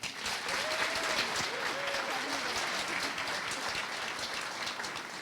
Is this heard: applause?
yes